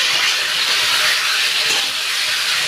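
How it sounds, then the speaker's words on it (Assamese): Hot water poured into frying masala in a pan, a loud continuous steamy hiss that holds steady throughout, with no voices. "এনেকুৱাতে মই পানী দি দিছোঁ। মই ইয়াত গৰম পানী ব্যৱহাৰ কৰিছোঁ"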